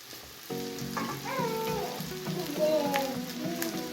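Rice goes into a hot frying pan for vegetable rice and is stirred, giving a steady crackling sizzle with scraping stirs, while a high tonal voice-like sound rises faintly in the background.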